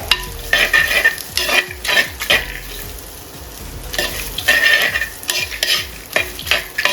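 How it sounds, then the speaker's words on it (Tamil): Chicken with small chopped pieces of coconut is stir-fried in a pan: loud, close scraping and tossing strokes come in quick bursts over a continuous sizzle, with a short quieter pause midway and no talk. "ஃப்ரை ஆகிற வரைக்கும் கொஞ்சம் அப்படியே வதக்கி விட்டுக்கிட்டே இருங்க"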